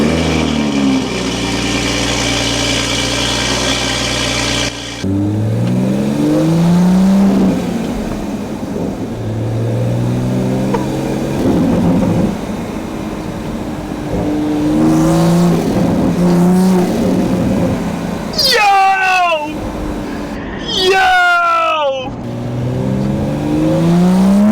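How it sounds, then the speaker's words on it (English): Toyota GR Supra fitted with an aftermarket intake and a catless downpipe driving on the road: loud engine revving through gear changes, rising and falling pulls with sharp upshift sweeps near the end, close and continuous, no talk. "Now I can finally go out, hear my catless downpipe"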